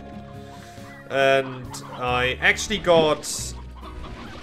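Chickens cluck in the Slime Rancher video game, a few short bursts of fowl calls mixed with game music and effects while someone talks over them.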